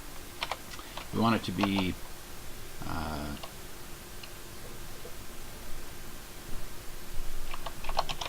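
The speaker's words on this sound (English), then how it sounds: "let's just type it in here." Typing on a computer keyboard during accounting problem work, heard as scattered key taps around a man's speech and in a brief burst near the end.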